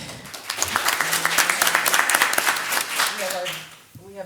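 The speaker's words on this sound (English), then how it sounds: "Yeah, definitely a round of applause." An audience at a school board of trustees meeting claps in a brief round of applause, dense and fairly close, tapering off toward the end as voices talk over and after it.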